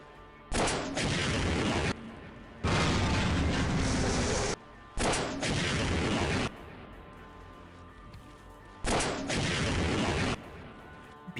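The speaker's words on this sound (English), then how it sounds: "Then, the Tau Cannon lets me reach the final portal." Tau Cannon from the video game Half-Life firing in four loud, heavy blasts, each lasting one to two seconds, spaced across the stretch with quieter gaps between them and no voices.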